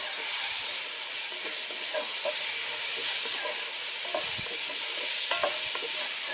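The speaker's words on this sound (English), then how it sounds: "we're just going to fry them off on a much lower heat than we did with caramelised the legs on" Garlic fries gently over low heat in a camp cooking pan for lamb shanks in red wine sauce, a continuous soft sizzle and hiss broken by a few light stirring clinks and pops.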